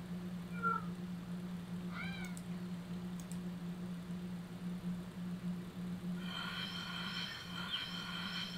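A cat in the Clan Lord online game meows twice with short, rising calls early on, heard over a steady low humming game drone, followed later by a brighter, chiming game tone.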